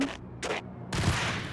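Gunfire in the video game Max Payne, a few loud broadband bursts in quick succession: two short shots, then a longer sustained blast of fire, all fairly close with no talk.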